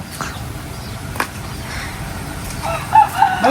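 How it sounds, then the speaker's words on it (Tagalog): Roosters crow in the distance over a quiet outdoor background, with the clearest crows coming near the end. "Magpapainom lang daw po pala si Bossing ng kanyang mga manok."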